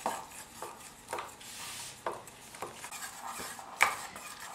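Mango soufflé mixture being stirred in a bowl set over ice, soft swishing punctuated by faint scattered clinks of the utensil against the bowl, quiet and close.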